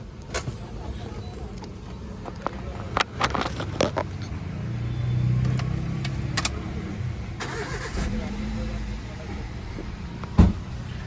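A Toyota car with a noise problem is cranked and fires up after a few sharp clicks and knocks, then settles into a low, steady idle nearby, with faint voices in the background.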